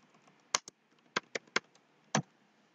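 Typing on a computer keyboard: a handful of sharp, separate key clicks at an uneven pace, close and fairly quiet, with no talk.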